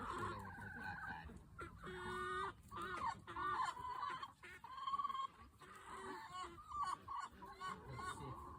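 Pet chickens or similar fowl cluck and squawk repeatedly at close range during feeding, a busy overlapping chorus of calls with some faint talk underneath.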